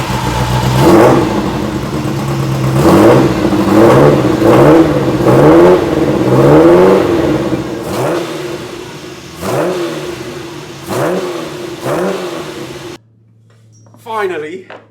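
A Ferrari 308 engine, newly running after a distributor fix, revs repeatedly in a series of loud rising and falling surges close up, with a short stretch of speech at the end.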